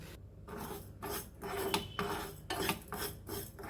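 Fenugreek seeds roast in half a spoonful of oil in a pan for pickle masala, a dry rasping scrape of a spoon stirring them against the metal in repeated strokes, close and moderately loud.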